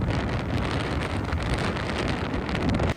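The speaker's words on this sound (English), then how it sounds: "Our producer sending us this video of the rain and gusts in Henderson." Heavy rain and gusty wind in Henderson, a steady broadband roar of rainfall and wind buffeting close to the microphone, continuous and loud until it cuts off abruptly near the end.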